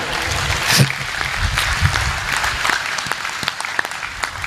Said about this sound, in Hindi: तो एक बार जोरदार ताली बजाइए।